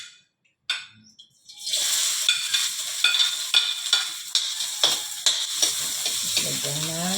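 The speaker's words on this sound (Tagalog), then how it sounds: "Ito ngayon ang ating sibuyas. Ating igigisa ngayon." Sliced onions hit hot oil in a pan for a fried beancurd dish, setting off a loud steady sizzle, with stirring scrapes and clicks repeating over it close by.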